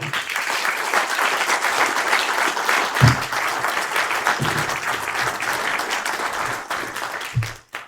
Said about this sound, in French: Et je crois qu'on peut les féliciter et les applaudir grandement.